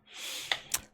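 A single short cough, close and fairly quiet, ending in two sharp breathy bursts, from a gamer pausing mid-commentary.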